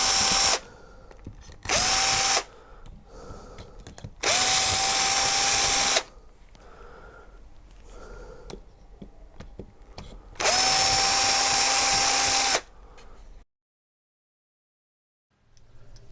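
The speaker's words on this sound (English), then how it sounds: "it'll drill through plastic easily enough" A power drill whirs through plastic in three bursts, short then longer, cleaning up a hole in a speaker part, separated by quieter handling noises, ending in near silence.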